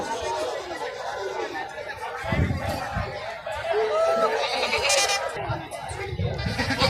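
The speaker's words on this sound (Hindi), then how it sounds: "ये माशाल्लाह एक बकरी है देसी, प्योर देसी।" Bleating from a desi goat at a busy livestock market, heard amid the constant chatter of a crowd with people talking close by.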